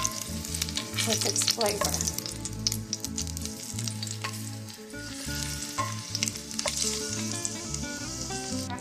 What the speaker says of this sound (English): our clove of garlic, which I've smashed. And all you want it to do is cook for about 2 minutes so it can infuse our oil